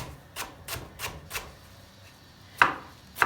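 Knife chopping onion on a board: a handful of sharp, evenly spaced chops, fairly close, with a louder final cut near the end and no talk.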